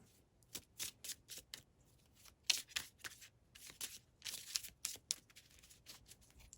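Tarot cards being shuffled in quick irregular bursts of riffling and sliding, close and crisp, with short pauses between.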